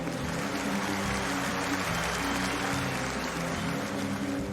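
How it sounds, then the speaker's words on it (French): A large audience claps steadily for Jack Ma, a dense, even wash of applause filling the hall at moderate loudness, without pauses or talking over it. "ladies and gentlemen, un triomphe d'applaudissements pour Jack Ma"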